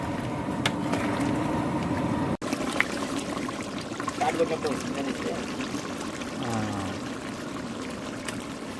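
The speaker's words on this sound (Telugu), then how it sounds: "కొంచెం వాటర్ పెడుతున్నా ఎక్కువ వద్దు" Water trickles and pours into a simmering pot of chicken curry cooked outdoors under a banyan tree, a brief close stream over low background with occasional clinks.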